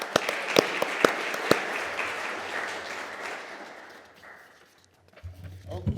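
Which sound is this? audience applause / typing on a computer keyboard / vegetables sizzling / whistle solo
audience applause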